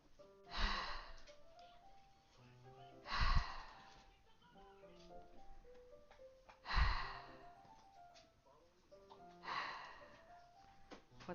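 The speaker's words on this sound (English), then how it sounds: "Sounds like breathing. A sharp inhale, like someone is sucking the air through their teeth." Four sharp, breathy inhales drawn through the teeth, spaced a few seconds apart, from the Doki Doki Literature Club video game, each one a loud burst over soft tonal game music.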